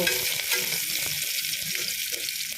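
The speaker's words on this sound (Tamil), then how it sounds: "அதில் வெங்காயம் பச்சை மிளகா தக்காளி பூண்டு எல்லாம் வதக்கிட்டு" Onion, green chili, tomato and garlic sauté in a little oil in a pan, a loud, continuous hiss of frying with faint scraping of a spatula stirring underneath, heard up close.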